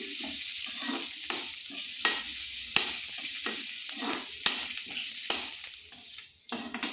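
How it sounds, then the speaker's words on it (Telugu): Coriander-mint chutney ingredients frying in a pan until dark, a steady close sizzle broken by repeated sharp scrapes and knocks of stirring, with no talk. "మంచిగా డార్క్ కలర్ వచ్చేంత వరకు ఫ్రై చేసుకొని"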